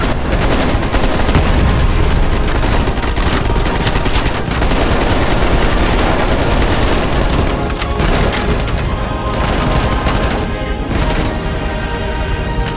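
Heavy, continuous gunfire in Call of Duty Black Ops Cold War, loud dense bursts and impacts filling the whole stretch with no pause.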